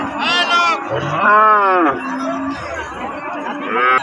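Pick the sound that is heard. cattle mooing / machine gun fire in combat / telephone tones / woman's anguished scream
cattle mooing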